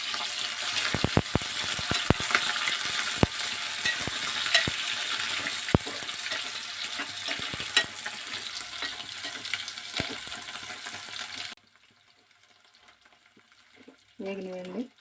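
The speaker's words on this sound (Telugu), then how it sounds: "ఈ నూనెలో వేగాలి." Onions frying in oil in a pan while making a ridge gourd and prawn curry, a steady broadband sizzle with scattered crackles and pops for most of the stretch, then cutting off suddenly near the end before a brief voice.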